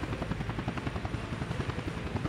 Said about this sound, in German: der Heli war im Einsatz